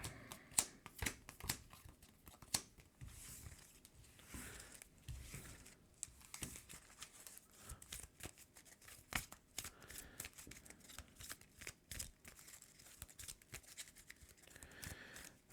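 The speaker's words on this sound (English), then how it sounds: "And shuffle these guys up here." Cards from the Earthborne Rangers board game are shuffled repeatedly nearby, with quick riffling bursts and soft flicking and sliding, fairly quiet and without talk.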